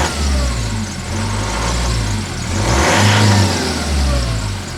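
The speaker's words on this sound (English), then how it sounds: "Let me give it a rev." A Fiat Ducato diesel motorhome engine, a Swift Suntor, revs in several loud swelling pulses over a rough idle, heard close by the exhaust with no talking.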